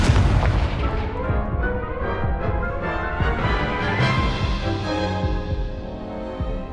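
Repeated booming blasts and rumbling explosions from the Confringo fire spell in the video game Hogwarts Legacy, dense and loud with layered impacts overlapping for several seconds.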